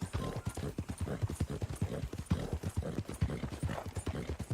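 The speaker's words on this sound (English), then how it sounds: "that's one nice-looking horse you got there" A horse's hooves clip-clop at a steady, quick trot in the video game Red Dead Redemption 2, close and rhythmic throughout, with no talking.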